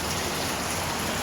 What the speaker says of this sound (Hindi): देख लो आ गई ये बारिश।